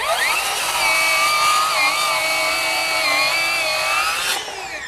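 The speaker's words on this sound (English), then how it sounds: "it cooled off enough, started back up and finished that cut" A Ryobi One+ HP 18V brushless 7-1/4-inch circular saw runs loud and steady through a cut, its high whine holding nearly level before dropping off as the blade spins down near the end.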